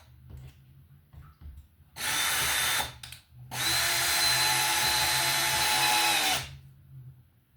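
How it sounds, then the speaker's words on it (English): A power drill drives screws into a wall while a new wall light is installed, with a short whirring burst followed by a longer, steady, loud run up close. "And we'll screw it on our wall here."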